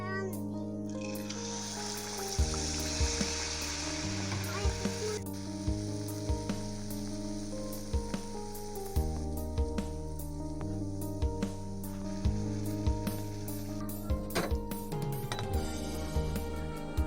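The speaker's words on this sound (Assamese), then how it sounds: "আৰু এনেদৰে আপুনি পিঠাবোৰ ভাজি ল'ব।" Teel pitha rice cakes fry in hot oil with a steady sizzle, while clear tonal music and occasional clinks from cooking utensils run over it.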